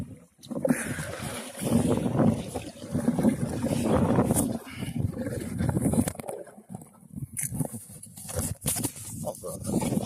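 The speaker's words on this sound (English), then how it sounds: "But the wind is definitely ripping today." Strong gusting wind buffets the microphone during kayak fishing on a lake, a continuous rumbling roar with surging gusts and brief lulls, close and loud, with some faint movement noise mixed in.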